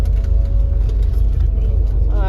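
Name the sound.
Volvo bus riding on the Shimla road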